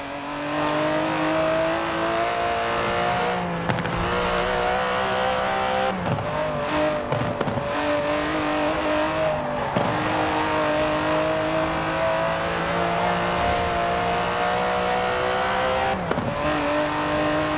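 An Aston Martin DB11's 5.2-litre twin-turbo V12 in Forza Horizon 4 revs continuously, rising and falling through gear changes with brief tire squeal, loud and alone.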